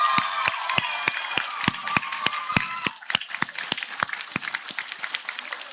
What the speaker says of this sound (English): So let's please give her a big round of applause.